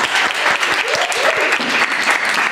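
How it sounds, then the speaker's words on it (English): A round of applause from a live audience at a comedy show, loud and close, with distinct hand claps in a quick irregular rhythm and a short voiced sound rising briefly over the clapping. "big round of applause for Michael"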